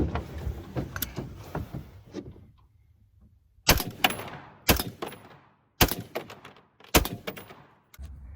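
Rifle rounds striking an RTS Tactical AR600 level III+ steel armor plate, several sharp, loud impacts spaced about a second apart, each ringing briefly, preceded by quieter clattering thuds.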